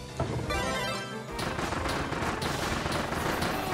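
Shots fired in the Kirby and the Forgotten Land video game, a fast run of repeated blasts that starts after a short quieter lead-in and carries on densely to the end, loud and close over busy game audio.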